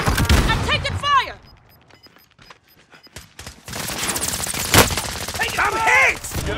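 Bursts of automatic gunfire and sharp shots crackle in Call of Duty: Modern Warfare, loud and close, broken by a brief lull, with urgent radio voices and shouting over the fire.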